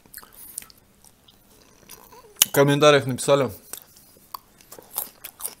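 Noisy chewing and crunching of pancakes with strawberry jam and fried dumplings, soft close-up bites around a burst of Russian speech.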